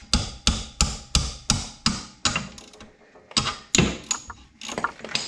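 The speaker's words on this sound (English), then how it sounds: "Let's back out these bolts." Ratchet wrench working bolts loose on a Saab 9-3 TurboX: a run of sharp, evenly spaced clicking strokes up close, then a few irregular clicks and clunks as the bolt gives, no talking.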